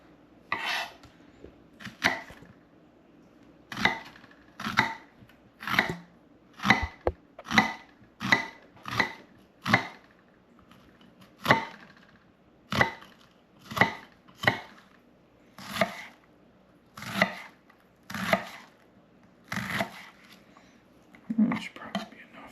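A knife finely dices onion on a cutting board for a porgy ceviche: about twenty crisp, evenly spaced chops, close and clear, with a faint murmur beneath.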